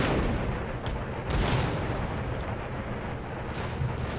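Artillery barrage in the strategy game Empire: Total War, a dense continuous rumble of distant booms and cannon fire with scattered sharper reports and no pause.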